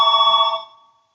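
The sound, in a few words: telephone ringing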